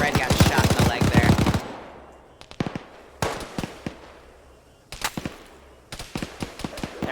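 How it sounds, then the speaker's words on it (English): Bursts of PKM machine gun fire from the game Arma 3, several separate rapid volleys with gaps between them, loud and sharp, with a voice talking over the first burst. "it's that 1 MG from the PKM"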